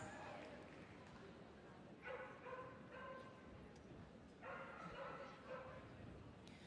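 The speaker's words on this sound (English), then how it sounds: "We have another noisy dog on the start line waiting to go, wondering why they're not running round." A dog barks and yips on the start line of an agility ring at Crufts, two bursts of barking standing out over a noisy arena crowd and general hall din.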